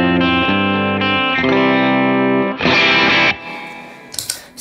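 An electric guitar on its bridge pickup plays through effect pedals, loud and close, with sustained distorted chords that shift a few times before a brighter burst and a fading, scratchy tail.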